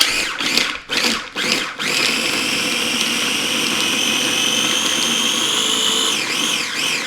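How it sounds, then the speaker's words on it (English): A small mini blender whirs loudly and steadily blending a korma paste, starting with a few short stop-start pulses before running continuously, its pitch shifting slightly near the end. "So we get these in our little mini blender."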